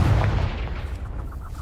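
A Confringo spell explosion in the video game Hogwarts Legacy, one loud, deep booming blast that rumbles and fades over a second or so.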